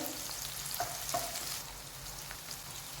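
Chopped onions with shahjeera frying in a pan for Chettinad chicken biryani, a steady hiss with a few light scraping stirs, no talk.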